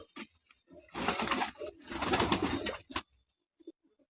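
Shialkuti pigeons coo in two rolling bursts, fairly close and moderately loud, followed by a few soft scattered notes as it tails off into quiet.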